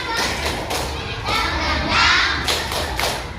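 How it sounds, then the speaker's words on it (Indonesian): A primary school class claps out a rhythmic spirit clap in a classroom, with several loud group claps and thumps in a pattern and children's voices mixed in. "Tepuk semangat."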